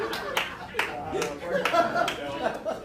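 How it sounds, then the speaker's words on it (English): A few people clap in sparse, uneven bursts under chatter and light laughter from a small indoor group. "Yeah, Jimmy's clapping for that"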